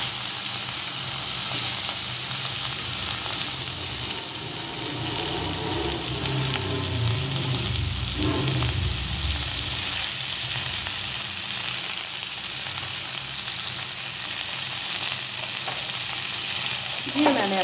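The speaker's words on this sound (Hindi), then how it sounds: "मैंने अपनी सारी अंबिया इसमें डाल दी होगी और इसे अच्छे से चला लेंगे।" Raw green mango chutney with kalonji seeds cooks in a pan, giving a steady, close sizzle and frying hiss throughout as it is stirred, with a brief scrape near the middle.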